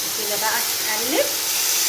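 Meat sizzling and frying in a pan while being stirred, a steady close hiss throughout with faint scraping underneath.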